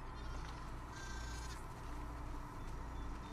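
Sheep bleating on a farm near a barn in the video game The Last of Us Part II; faint bleats over a steady, noisy game-audio background with low rumble.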